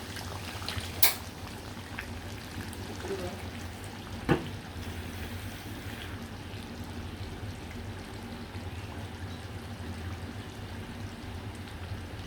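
Mutton curry gravy, reduced and thick, simmers steadily in a pot with a low continuous bubbling hiss, broken by two brief clinks, heard alone.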